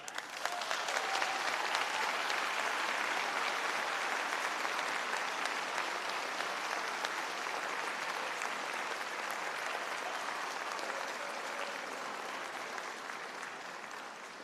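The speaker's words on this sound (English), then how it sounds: "Graduates, a round of applause, please." Graduates at a university convocation ceremony applaud together, a dense, sustained roar of clapping from a large indoor crowd that holds steady for about fourteen seconds before easing slightly.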